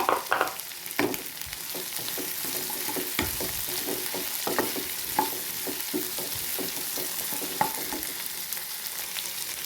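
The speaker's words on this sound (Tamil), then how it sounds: "வெங்காயமும் நல்லா வணங்கிடுச்சு, மிளகா நல்லா வணங்கிடுச்சு" Onions and green chilies sautéing in a pan for kovakkai chutney, a steady close sizzle broken by repeated spatula scrapes and clinks as they are stirred.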